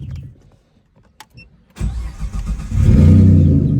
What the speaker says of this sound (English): I think it's time to start her up.